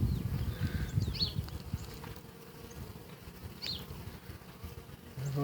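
A honeybee swarm buzzes around a flower pot hive, a soft continuous drone of many wings close by, with a few faint higher chirps over it.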